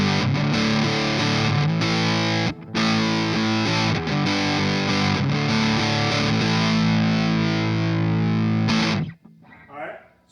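Electric guitar driven through an Orange Terror Stamp amp pedal set for natural distortion, thick sustained chords ringing for several seconds before cutting off, followed by a brief faint voice.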